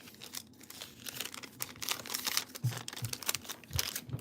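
Pen or pencil scratching on a piece of paper, quiet, irregular rustling strokes and crinkles close by, with soft taps as the writing hand shifts.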